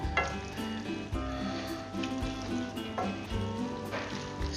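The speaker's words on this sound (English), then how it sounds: "Okay, so I'll add all the veggies. To our chop suey." Vegetables tossed into a hot pan of chicken chop suey sizzle steadily, with stirring clatter and scraping over a continuous frying hiss, close up.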